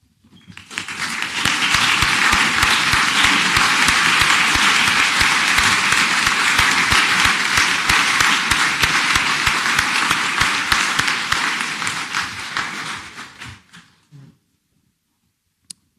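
An audience claps for a class of furniture design and manufacture graduates at a university conferring ceremony. The applause swells quickly and holds loud and even for about twelve seconds, then dies away to silence.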